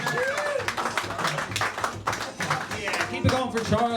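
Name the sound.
comedy club audience clapping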